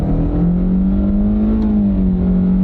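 A car engine hums steadily and rises in pitch as the vehicle gains speed, a loud close drone with a smooth upward sweep.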